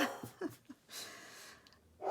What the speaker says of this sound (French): il y a les chiens qui aboient